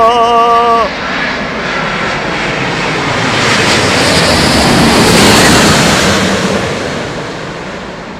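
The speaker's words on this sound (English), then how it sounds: "Looks like a Qatar 350" A Qatar Airways Airbus A350 roars past at London Heathrow Airport with a loud, broad engine rumble that builds toward the middle and then fades, after a brief tonal chime at the start.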